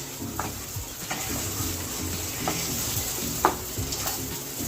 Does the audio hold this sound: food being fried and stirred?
yes